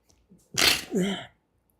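A single sharp sneeze, close and loud, with a short breathy intake just before it.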